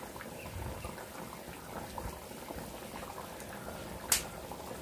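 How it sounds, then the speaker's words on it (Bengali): Potato curry (alur dom) simmers in a kadai, giving a soft, continuous bubbling and gurgling at low volume, with a brief sharp tap near the end and no talking. "দেখুন আমার তরকারিটা বেশ ভালোই ফুটে উঠেছে।"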